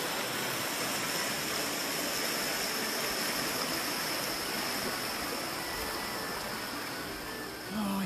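The Glendalough river flows in Ireland, a steady, broad, close rush of water that holds even and loud from start to end with no voices over it.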